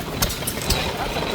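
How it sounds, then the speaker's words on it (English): A large antique engine-driven pump runs at an antique engine and machinery show, making a busy, clanking mechanical rattle with ratchet-like clicks and a few sharper knocks. "That's a pretty big pump."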